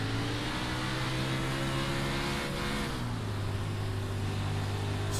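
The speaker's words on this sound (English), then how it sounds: "We'll go on board with Merriman here to listen to the throttle control off the corners" A 410 sprint car engine heard on board during a dirt track race, throttle feathered off the corners: a steady loud harmonic drone that dips in pitch midway and then holds lower, continuous with no talk.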